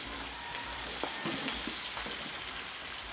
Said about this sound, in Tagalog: Magigisa tayo sibuyas bawang